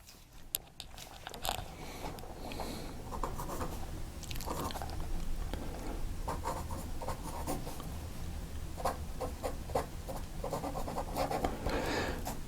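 A Franklin-Christoph Model 20 fountain pen with a metallic broad 14 karat nib scratches steadily across paper, close and fairly loud, in short strokes and pauses with no talking.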